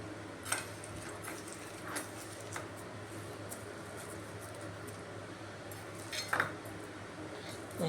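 Jaggery being stirred into a cooled mixture in a metal pot, with soft scattered clinks of a spoon against the pot over a steady fan hum, faint and close.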